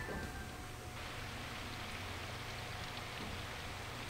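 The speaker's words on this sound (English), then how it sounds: "the first thing to reach my ears was the sound of rain pattering on the pavement" Rain patters softly and steadily on pavement in a visual novel game, a faint, even hiss of falling drops with no voices.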